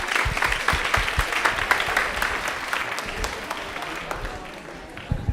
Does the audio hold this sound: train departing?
no